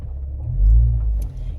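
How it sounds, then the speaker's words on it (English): A car backing slowly into a home driveway toward a garage door, its engine a steady low rumble close by that swells briefly before settling, with no voices. "I'm backing into my driveway here, and I don't want to hit my garage door or my husband's truck"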